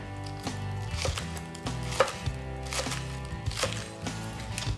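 A knife chops the root ends off green onions on a cutting board, giving a few sharp, close knocks spread across the clip over steady background sound.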